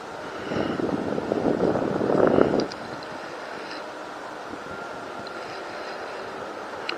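Wind gusts across a lakeside park during New Year's Day bass fishing, a steady broadband rush that swells louder in the first few seconds and then settles into a constant, even blow.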